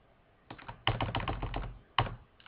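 Keys clatter on a computer keyboard in a few quick bursts of close, crisp typing, with short pauses between runs and no talking.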